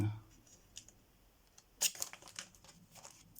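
Close, quiet snips of scissors cutting paper, a short cluster of crisp clicks and rustles midway through.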